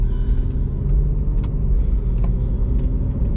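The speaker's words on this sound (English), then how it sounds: "since this car is taking forever, I'm gonna go ahead and turn for them." A car engine idles nearby in a steady, loud, low rumble throughout, with a few faint higher clicks and squeaks on top and nobody talking.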